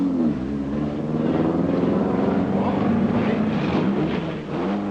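Cunningham Maserati 3-litre race car at the 1961 Le Mans 24 Hours, a loud sustained engine drone that holds steady before dipping briefly near the end, with no voices.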